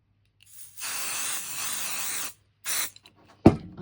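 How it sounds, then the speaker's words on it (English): Spray adhesive hisses from an aerosol can during a papercraft project, one long burst of about a second and a half and then a shorter burst, ending with a sharp click. "grab my spray adhesive and I'm just going to pop a little bit"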